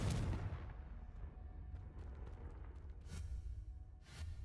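A spell blast in a fantasy wizarding action game sends a booming burst up front, followed by lower rumbling and two sharper bangs toward the end, without any talk.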